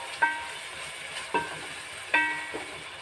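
Fish frying in a pan for a fish curry, a low steady sizzle broken by three sharp metallic clinks of a utensil against the pan, nearby and fairly quiet.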